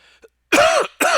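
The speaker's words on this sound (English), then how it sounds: "Had to get that cough out there" A single sharp cough from a person, loud and close, followed a moment later by a second shorter cough, with near silence before it.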